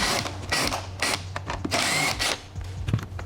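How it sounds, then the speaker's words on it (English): A power driver backs out T30 screws holding the luggage carrier straps on a Porsche Macan Turbo, giving repeated close whirring bursts with short pauses and clicks between them. "So the first thing I'm doing is removing these T30 screws that hold down the luggage carrier straps."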